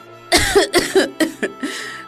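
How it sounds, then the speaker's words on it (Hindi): A woman who is ill coughs in a short burst of several rough, voiced coughs, close and fairly loud, each one quick and hoarse. "बीमारी की वजह से खांसने लगती है"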